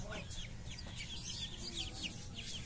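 A blue US Silkie hen in a backyard pen clucks quietly now and then amid high chirping from nearby chicks or small birds, all faint and continuous at close range.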